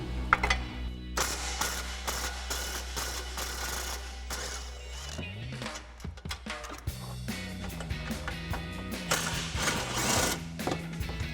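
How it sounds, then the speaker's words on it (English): A ratchet with a 13mm socket on an extension works loose exhaust hanger bolts behind the rear differential of a 2024 Mustang GT 5.0L, giving repeated bursts of quick clicking over a steady mechanical hum. "So I'm using that same 13mm socket with an extension."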